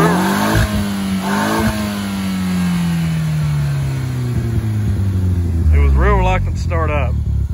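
A VW Passat with a 1.8T engine struggles to start and then revs, a rough mid-pitched engine drone rising and falling with several quick throttle blips near the end, with voices talking over it.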